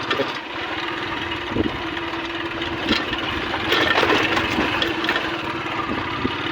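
A Royal Enfield Bullet motorcycle rides along a rough farm track to the fields, its engine thumping steadily at a moderate distance, with rattles and occasional knocks from the bumpy path and no talking.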